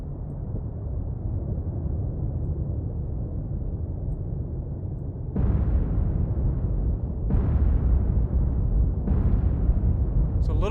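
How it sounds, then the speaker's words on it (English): Depth charges in the naval game War on the Sea detonate underwater as three heavy, muffled booms rising over a constant deep engine rumble, spaced a couple of seconds apart. "fire the depth charges"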